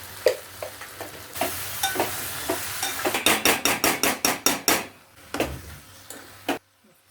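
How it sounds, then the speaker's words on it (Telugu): Raw mango, jaggery and chilli powder stirred together in a pan, heard as a low sizzle under a quick run of rhythmic scraping strokes from a spoon, close by, ending in a couple of firmer scrapes and then quiet. "మామిడికాయ వేసుకున్నాక కారం వేసుకుని కలుపు"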